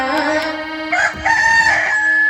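A rooster crowing loudly and close by, one drawn-out cock-a-doodle-doo with a rising middle and a long held end, alone and with no talk.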